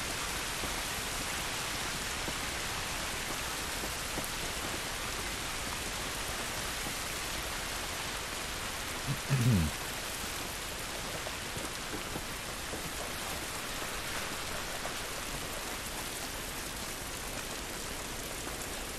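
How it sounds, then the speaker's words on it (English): Steady rainfall in The Last of Us patters continuously as a dense, even hiss throughout, with a brief low thud partway through and no voices. "It's raining, but it isn't good."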